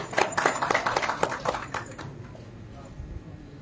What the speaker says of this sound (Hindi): जोरदार तालियां नूर जी के लिए भी।